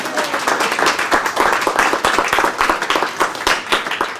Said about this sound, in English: Give the robot a clap.